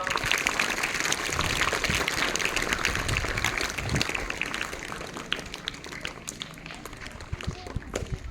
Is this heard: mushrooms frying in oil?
no